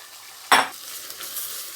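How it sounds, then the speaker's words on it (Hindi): Potatoes and carrots stir-fried in a pan: a single sharp sizzle as the vegetables are stirred, fading quickly into a soft frying hiss. "इसको भी आपने अच्छी तरह भूनना है"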